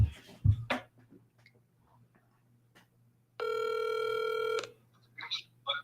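A phone call placed on a mobile phone at a boat ramp gives one long electronic ringing tone, loud and steady for about a second. Faint clicks and brief rustles come before it and soft noises follow.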